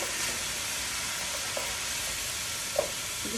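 Onions sautéing in a soup pot make a steady, even sizzle, with a couple of soft clicks from stirring.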